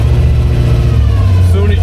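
Engine of a 1934 Ford rising on the throttle, a steady low-pitched drone close by, with a voice talking over it throughout.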